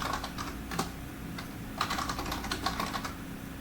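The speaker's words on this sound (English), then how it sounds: "You can start typing here, and you can hit enter to insert a new line of text." Someone types on a computer keyboard in quick irregular bursts of close, crisp key clicks, with a few louder keystrokes standing out and no talk.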